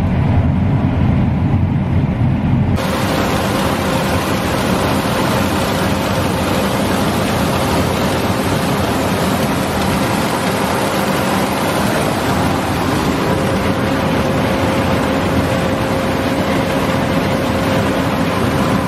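A combine harvester steered by a kid rumbles with a steady, loud engine drone and wind buffeting close to the microphone, continuous throughout.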